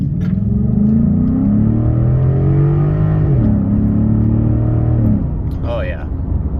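A 2013 Ford F-150 5.0 V8 truck with a newly installed 85mm throttle body accelerates, its engine note rising steadily through the gears with a brief dip near the middle, heard from inside the cab and loud.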